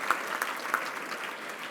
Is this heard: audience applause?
yes